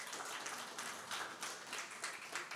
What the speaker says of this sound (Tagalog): Palakpakan nga natin ang Panginoon